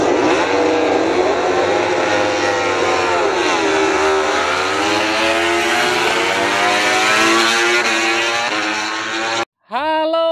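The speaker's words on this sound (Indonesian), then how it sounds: "Ada motor balap GP" A toy-scale MotoGP racing motorcycle engine sound effect screams loud and steady at high revs, its pitch sweeping down and back up through gear changes, then cutting off abruptly near the end.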